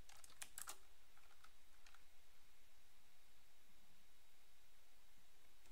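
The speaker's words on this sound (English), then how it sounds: "I type in my cheat code just to get there quicker" Quick keystrokes on a computer keyboard entering a cheat code in Doom, a short burst of clicks at the start before a faint background hiss takes over.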